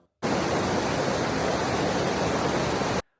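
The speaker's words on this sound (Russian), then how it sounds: "Кынгырга достаточно громко шумит, сбегая с гор у поселка Аршан" The Kyngyrga mountain river rushing down from the mountains near the village of Arshan, a loud, dense, steady roar of water that starts and stops abruptly, with no voices.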